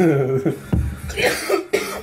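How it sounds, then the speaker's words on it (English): A man coughs several times in short, harsh bursts after vaping, close to the microphone, with a throat-clearing quality between coughs. "He's got a thing where he coughs a lot when he vapes."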